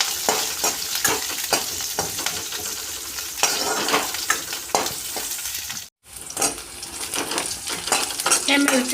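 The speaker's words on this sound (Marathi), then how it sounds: "जिरं पूर्णपणे तडतडल्यानंतर आपण त्यामध्ये कट करून ठेवलेल्या हिरव्या मिरच्या घालणार आहे" Green chillies sizzling in hot oil with cumin seeds in a pan, a steady crackling fry broken by stirring scrapes and clinks, a brief gap, then continuing; no talking.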